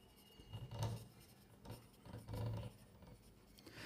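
A pen scratches across paper in a few short bursts separated by brief pauses, faint and close, with no talking.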